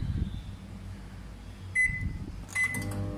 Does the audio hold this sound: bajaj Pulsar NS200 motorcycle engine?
no